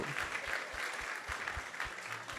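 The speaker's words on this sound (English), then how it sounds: "So let's give a big round of applause to everyone who has joined us tonight." Audience at an ISKCON temple Sunday feast in Silicon Valley applauds, a steady wash of clapping at moderate level with a few faint low thumps beneath.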